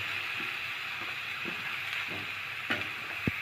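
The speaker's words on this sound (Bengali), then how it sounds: "এখন দেখো আলু আর বেগুনটা মশলার সাথে একটু ভালো করে কষিয়ে নেওয়া হচ্ছে।" Long-cut potato and eggplant pieces sautéing in spices give a steady, close frying sizzle, with soft rhythmic scrapes and taps of a stirring spoon about twice a second.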